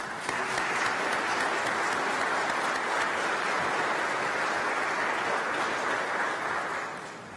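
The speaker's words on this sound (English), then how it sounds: "Let's give all of these incredible team members a round of applause" Crowd at a convention center ribbon cutting applauds team members, a broad, sustained wash of clapping that holds steady and loud before tapering off at the end.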